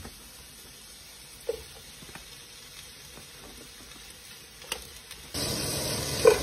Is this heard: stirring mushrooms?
yes